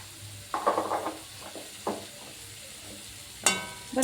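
A spoon scrapes and stirs momo filling in a hot pan on a gas flame, with short bursts of stirring over a low sizzle and a sharper clink near the end.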